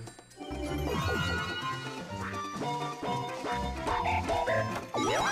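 A repeating two-note cuckoo call plays over bright, busy background music on the Toy Dream board in Mario Party 5, steady and fairly loud for about five seconds with no talking.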